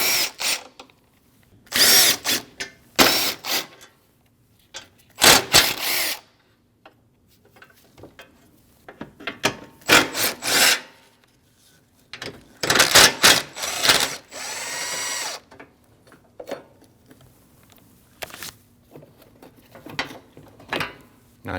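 A power tool, likely an impact driver or drill, spins off 10mm bolts from the AC condenser brackets on a 2014-2023 Jeep Cherokee. Loud, close bursts of whirring come several times with quiet gaps between them, and there is no talk.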